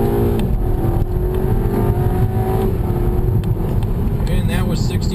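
A 2011 Audi A3 pulls away hard under launch control, its engine note climbing steadily through the gears toward 60 mph, recorded from inside the cabin with a constant loud road and engine roar and no break in the noise.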